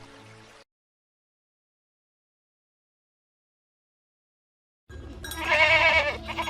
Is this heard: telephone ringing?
no